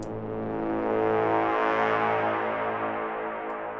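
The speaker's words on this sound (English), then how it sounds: "sawtooth with a low pass filter," A sustained sawtooth synth horn in a techno production, its low-pass filter slowly opening and then closing, drenched in reverb and swelling as one long continuous tone.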